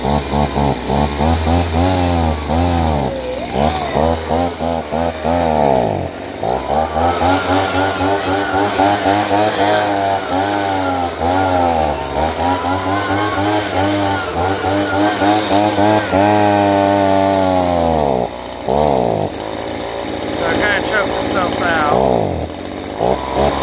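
A Stihl BG 85 leaf blower's small two-stroke engine runs loud and close for over twenty seconds, its pitch surging and sagging unevenly as it struggles and chokes, with brief dips where it nearly dies.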